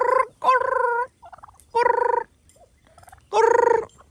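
Chickens cluck and gobble in loud, close bursts at feeding time, several distinct calls spaced across the stretch with quieter murmuring between them.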